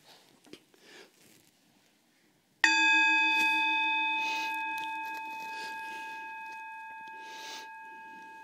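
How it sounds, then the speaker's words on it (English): A gong is struck once in a quiet room, its loud metallic crash blooming into a long, slowly fading shimmer of sustained tones that rings on for several seconds, after a few soft shuffles beforehand. "I'm going to bang the gong and we're going to do 5 minutes like this."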